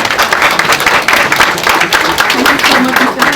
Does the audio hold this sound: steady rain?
no